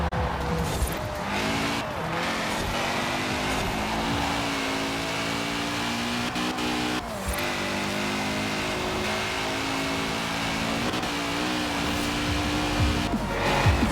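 Porsche 356 RSR rear-engine car driven in Forza Horizon 4, engine revving hard with rising and falling pitch through gear changes, tires squealing in corners, loud and continuous.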